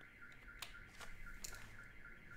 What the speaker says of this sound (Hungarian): kint pittyog egy riasztó